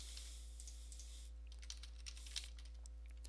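Keys on a computer keyboard are tapped in a quick, soft flurry, faint and close over a low hum, with a few scattered presses trailing off.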